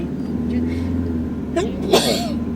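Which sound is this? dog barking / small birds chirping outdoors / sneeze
sneeze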